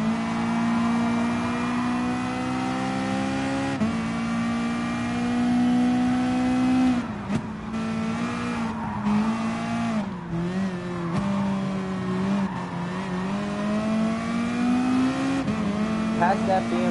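Racing car engines in the video game Gran Turismo Sport hold a steady loud drone with rising and falling revs as cars battle on the final lap, passing a BMW M6, with brief shifts and tyre noise and no talking over it.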